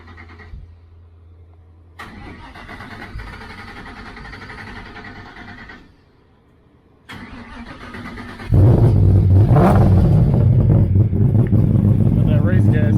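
A Harley Street Glide custom bagger on 30-inch wheels idles, then its engine revs up hard, loud and close, while people talk over it.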